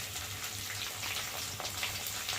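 Spices with tomato, chili powder, salt and turmeric fry with potatoes in a pan for tengra fish curry, giving a steady, close, crackling sizzle that holds even throughout with no talking.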